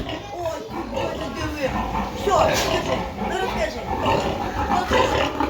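Pigs grunt and snort amid indoor clatter in a pigsty on an upper floor, with a person talking over the animal noises throughout.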